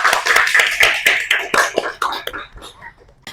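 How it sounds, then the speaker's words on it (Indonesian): A short burst of clapping from a small audience celebrating a one-year anniversary at a talk event, lively at first then thinning and fading out over a few seconds. "Tepuk tangan dulu dong."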